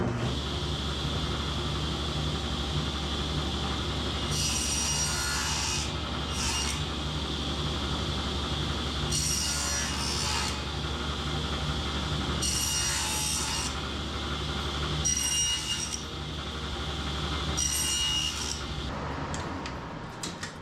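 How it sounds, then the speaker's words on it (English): A saw cuts through wood close up with continuous rasping strokes, working a notch out of the board, while brief higher scraping bursts recur every few seconds. "So I'm going to make the first cut there and then I'll just slowly work it across until I get all this hogged out."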